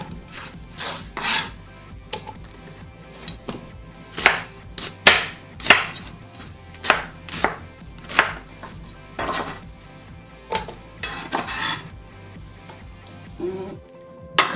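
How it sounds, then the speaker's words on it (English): An onion is roughly chopped with a knife on a cutting board, a long run of irregular close chops and scraping strokes, some in quick bursts, others spaced apart, with no talking. "And we chop the onion, a rough chop"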